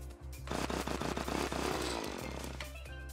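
A chainsaw in Terraria: Journey's End revs as a loud, continuous buzzing drone with a steady low hum beneath, cutting in after a brief quiet start and running for a few seconds before easing off.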